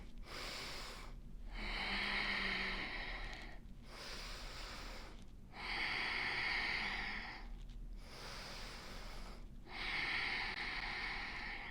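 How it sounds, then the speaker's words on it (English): Deep yoga breaths taken while holding a low lunge, with three slow, audible cycles of breathy inhales and exhales, each a soft hiss of air separated by brief quiet pauses. "take 3 breaths here"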